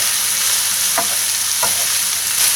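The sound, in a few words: stirring pork for sisig in a pan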